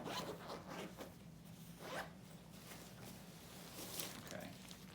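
A sleeping bag is pulled out of a Six Moon Designs 7-liter pack pod, with rustling fabric and zipper sounds close by. The handling noise is soft and continuous, with a few louder scrapes.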